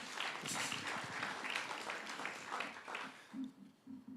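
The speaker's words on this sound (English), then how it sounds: "Please give him another round of applause, folks." Audience applause for a city mayor at a press announcement, a sustained patter of many hands clapping that gradually thins and fades into scattered claps.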